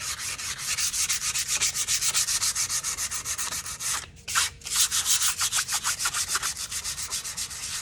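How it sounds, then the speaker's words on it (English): Fine-grit sandpaper rubbed by hand over a polyurethane-finished wooden bath tray, a steady close rasping in quick repeated strokes with one brief pause midway, no voices. "It does have kind of a like a polyurethane finish on it. So I'm using just a fine grit sandpaper."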